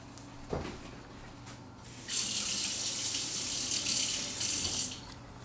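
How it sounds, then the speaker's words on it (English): Water runs from a sink tap to rinse a fork, starting after a small clink and then pouring steadily for about three seconds at close range before easing toward the end. "I shall wash out my fork"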